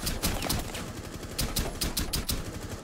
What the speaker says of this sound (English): Let's try with the pistol.